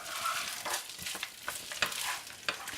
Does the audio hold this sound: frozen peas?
yes